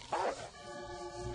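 Dogmeat, the dog companion in the video game Fallout 1, lets out a short bark and yip, followed by a whining, whimpering tone that holds for about a second.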